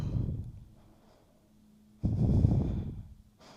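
Slow, deep breaths in and out during a Hatha yoga shoulder-rolling posture: a close, soft airy exhale, a long quiet pause, then another strong breath, with no talking.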